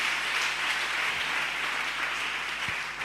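A church congregation applauds in a steady, sustained wash of clapping, moderately distant and without talk.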